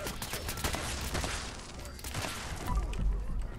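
An anti-armor explosive assault rifle firing in Fallout 76, a dense, continuous wash of rapid gunfire and blast noise that stays loud throughout, with heavier explosive thumps near the end.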